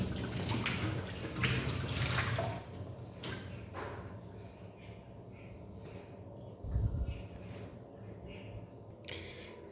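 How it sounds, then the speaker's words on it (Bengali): Hands are rinsed with water, a soft continuous splashing and trickling that is busier at first, then settles into quieter drips and sloshes, with one brief low thump, close by and with no talking. "আমি হালকা যেটা জল থাকে ওই জলটা দিয়ে কিন্তু আমি ধুয়ে নিচ্ছি।"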